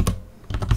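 Quick keystrokes on a computer keyboard entering text into Windows search: a short burst of several crisp, close clicks, loud and alone.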